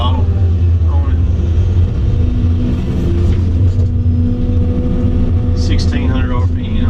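A Volvo 700 excavator engine runs at about 1600 RPM, well below full throttle, a loud close continuous low rumble with mechanical clanks and squeals over the top and a person talking.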